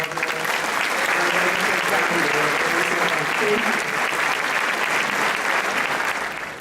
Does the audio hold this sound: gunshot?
no